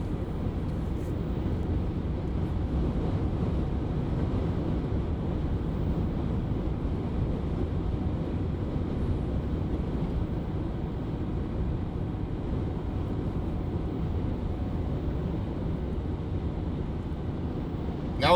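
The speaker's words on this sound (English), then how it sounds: "I still hear a motor under there, right?" A 2022 Ford Maverick Lariat Hybrid with a 4-cylinder engine runs on the highway on a very windy day, giving a steady broad roar of road and wind noise with the motor buried underneath, no talk.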